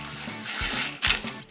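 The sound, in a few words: power gun tightening engine bolts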